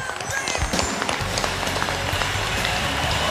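A studio audience on a Chinese TV talent show applauds to welcome a guest, with a dense patter of clapping running through the short stretch.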